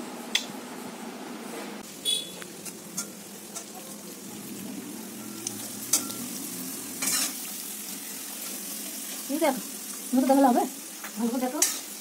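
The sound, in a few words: food frying in oil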